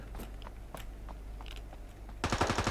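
Gunfire in a video game, scattered faint shots at first, then a close, loud rapid burst of automatic fire at the end.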